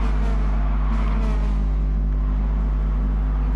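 Touring cars racing in a BTCC racing video game, a loud continuous engine drone with strong low hum that swells slightly, no voices over it.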